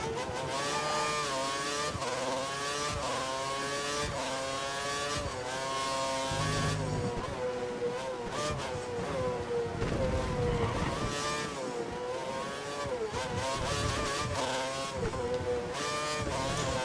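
An F1 car's engine in F1 2013 crawls slowly around the Yeongam circuit in Korea, its whining pitch rising and falling through repeated gear changes and modest revs, loud and continuous.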